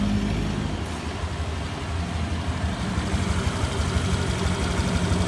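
A Honda Click 125i scooter engine idling after a coolant change, a steady, continuous low engine hum and rumble running unbroken and fairly close throughout, with no talking.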